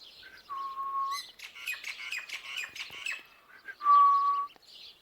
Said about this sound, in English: Look at all the birds.